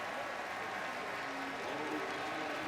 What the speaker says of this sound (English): A raucous crowd here today.